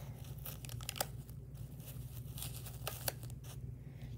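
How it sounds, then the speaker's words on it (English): Rubber bands are pulled off a diaper cake with close, quiet snapping and rustling, a few sharper plucks standing out over a low steady hum. "Now I'm gonna pull them rubber bands off."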